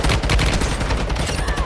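Rapid automatic gunfire in the mobile shooter Warzone Mobile on the Verdansk map, a dense continuous burst of shots filling the whole moment at close range with no talk over it.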